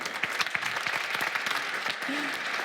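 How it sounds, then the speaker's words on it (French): Scattered audience clapping at a live talk event, with brief uneven bursts, fairly faint, mixed with some crowd murmur. "Vous pouvez l'applaudir, Firas, s'il vous plaît."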